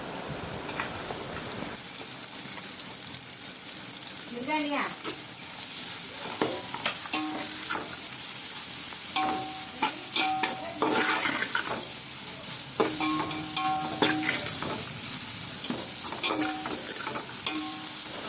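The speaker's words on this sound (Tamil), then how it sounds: "இப்போது இதில் முட்டைக்கோஸ் வந்து நான் ஆட் பண்ணிக்கிறேன்." Cabbage with salt being stir-fried in a pan, a loud steady sizzle with repeated scraping and clinking of a spatula against the pan, close up and without talk.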